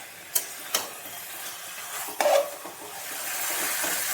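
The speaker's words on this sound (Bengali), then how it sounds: "5 মিনিট ধরে নেড়ে মশলাটাকে ভালোভাবে, ভাজা মশলা আর যেটা মাখানো ছিল সেই মশলা একসাথে ভালোভাবে মিশিয়ে" Spice paste for a Bengali-style chicken curry stirred and fried in a pan, with a few sharp scraping strokes over a steady low sizzle that grows slightly toward the end, close and fairly quiet.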